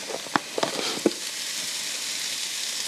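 Thinly sliced salted onions frying in a pan: a steady close sizzle with a few sharp stirring taps early on, then even crackling.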